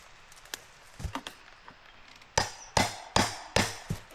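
Fence staples are pried from a wooden gate post with fence pliers, a few faint knocks at first, then four sharp close wooden cracks and snaps spaced evenly as the staples pull free, no talk.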